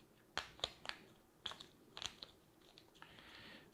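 Board game tiles shuffled by hand on a tabletop, giving irregular clacks and crunchy clatters, close and soft, with a brief rustling slide near the end and no voices.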